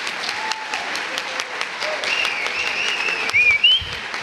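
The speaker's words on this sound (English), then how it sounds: "So one more round of applause for all of our student artists." A crowd at a community art banner reception claps warmly for student artists, steady applause, with a few whistles and cheers rising near the end.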